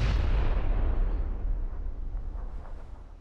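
Grenade explosion in the PUBG battle royale game, a deep booming blast that rolls off and fades over a few seconds, alone without talk.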